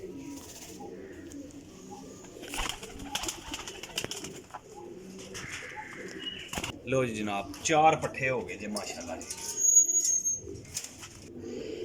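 Pigeons, including white desi birds in a loft, coo softly in rolling phrases with occasional wing sounds, while someone talks throughout.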